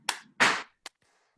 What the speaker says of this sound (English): Can we all clap twice?